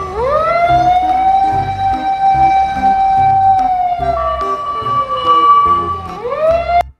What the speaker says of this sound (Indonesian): yang ini truk pemadam kebakaran lagi